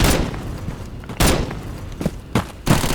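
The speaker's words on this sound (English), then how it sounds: "They're just throwing grenades at me." Grenade explosions in the Bullet Force shooter game: several heavy booming blasts land one after another at irregular intervals, loud and close, set against a constant rumble of battle noise.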